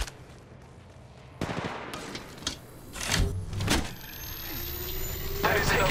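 Gunfire in the battle royale game Apex Legends Mobile, with sharp bursts of shots and impacts in a busy firefight, rising and falling in loudness over a steady background of game noise.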